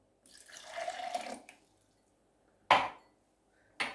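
Water poured from a cup into a Simbo Turkish coffee machine, a short soft trickle followed after a pause by two brief splashing pours, close and quiet with no talking.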